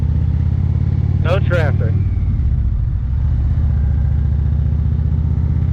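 Motorcycle engine hums steadily and loudly on an open road as the rider feathers the clutch, with wind rumble throughout and a brief electronic chirp near the start, while a voice speaks over the engine.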